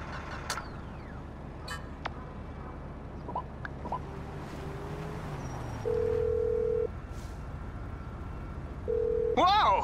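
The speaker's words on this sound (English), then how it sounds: "Whoa, who changed my ringtone?" Phone ringtone in a crime video game set around La Puerta, two sustained electronic beeps a few seconds apart rising over a low vehicle rumble, with brief talk near the end.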